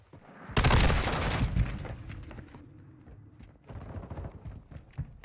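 HCR 56 light machine gun in Modern Warfare 2, a loud rapid burst of automatic fire early on, then quieter scattered shots and game sounds.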